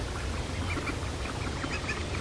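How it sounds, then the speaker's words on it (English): Ducks quacking in short overlapping calls against a constant noisy outdoor background. "Look at these ducks."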